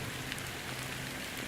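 Rain falling in the video game Honkai Star Rail, a steady, even hiss of rain on surfaces with no voices.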